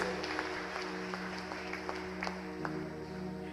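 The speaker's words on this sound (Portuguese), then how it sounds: "Se você quer, dá um amém e uma forte salva de palmas e vamos adorá-lo." Church congregation at a worship service clapping together, a steady wash of many hands over a low organ or keyboard drone, moderately loud and continuous with no talk.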